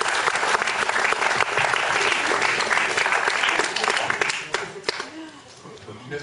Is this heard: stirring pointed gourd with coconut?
no